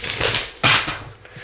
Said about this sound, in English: I'll do one more shuffle and then we'll get into the spread